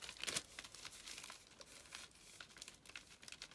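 A wrapped advent calendar package being handled and felt, giving soft close crinkling of paper wrapping, louder at first, then lighter rustles.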